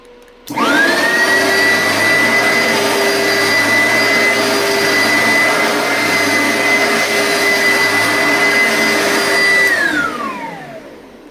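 A secondhand two-speed Oric upright vacuum cleaner switches on with a rising whine and runs at a loud, steady pitch for about nine seconds, then winds down as it is shut off.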